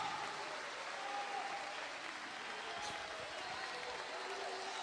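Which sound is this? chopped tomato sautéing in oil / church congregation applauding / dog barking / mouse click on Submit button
church congregation applauding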